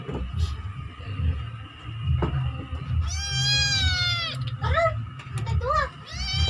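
A cat meows several times at moderate distance, the calls rising and falling in pitch, over a steady low background hum while a person waits to finish cooking meat.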